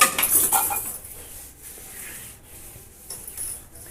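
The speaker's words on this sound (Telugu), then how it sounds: "ఇలా కొంచెం నీళ్లు చల్లుకొని ఇలా రుద్దుకున్నాం అనుకోండి" A wet kitchen surface sprinkled with water is scrubbed by hand, starting with a louder burst of rubbing and then softer, irregular scouring strokes close by, with no talk.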